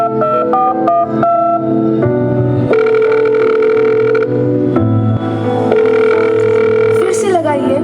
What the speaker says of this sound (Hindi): फोन नहीं लग रहा है।